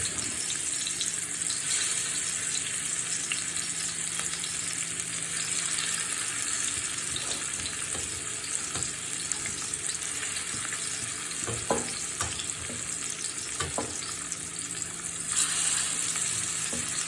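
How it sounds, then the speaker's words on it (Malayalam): Fish frying in hot oil in a pan, a steady, close sizzle that runs throughout with a few faint clicks and stirring knocks, no talking. "എണ്ണ നല്ലപോലെ ചൂടായി വന്നിട്ടുണ്ട്. ഇനി നമുക്ക് മീനുകൾ ഇട്ട് കൊടുക്കാം."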